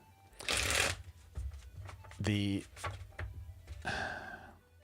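Tarot cards are shuffled by hand in several close, crisp riffling bursts, separated by softer taps and shifts of the deck, with no voices over them.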